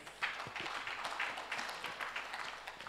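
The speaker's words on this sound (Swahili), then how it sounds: "makofi jamani kwa wanajopo wote" Applause for the panelists at a conference session on transparency in mineral, oil and gas extraction: light, scattered clapping from a modest audience, fairly faint and continuous.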